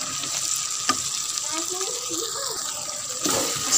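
Okra being stirred and mixed in a frying pan with potatoes, a soft sizzle and wet scraping under a faint voice, quiet and close.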